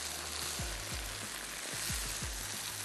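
Mushroom rice being stirred and mixed in a pan, a continuous sizzle with soft repeated scraping strokes of a spoon, close and steady with no talk.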